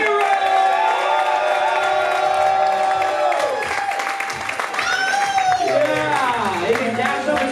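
A comedy club crowd at a comedy competition cheers, whoops and claps for the grand prize winner, a loud sustained roar of applause with music-like tones and voices mixed in.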